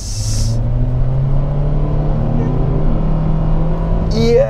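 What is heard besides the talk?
Mitsubishi Xforce accelerating from a standstill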